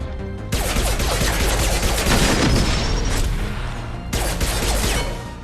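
Sustained rapid gunfire in Mass Effect 2 combat, loud overlapping bursts and shots filling the scene almost without pause, with a brief break before firing resumes.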